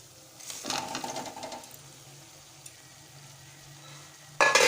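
Fried elephant yam pieces are tipped into a pan and sautéed, giving a brief clattering sizzle of stirring, then a faint, steady sizzle and a sudden louder scrape near the end, with no one talking.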